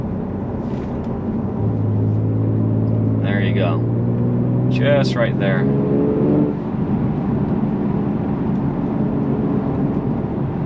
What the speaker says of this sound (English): a little bit of that rumble at lower RPMs